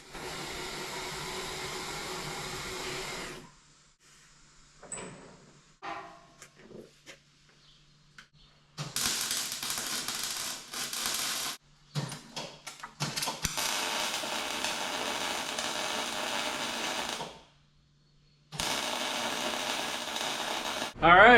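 Welding a piece onto a set of forks on an outdoor construction job makes several long bursts of harsh, buzzing hiss separated by quiet pauses, heard up close.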